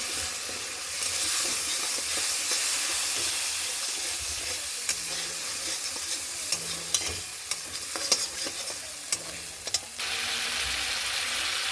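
Koi fish curry masala of cumin, turmeric and chili powder sautéing in a pan, a steady close sizzle and hiss with scattered scraping stirs and clicks of a spatula throughout.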